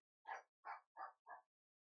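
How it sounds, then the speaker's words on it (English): A small pet dog yaps four quick, evenly spaced times, faint but clear and alone with no voices. "you probably hear my doggy fucking yapping as well"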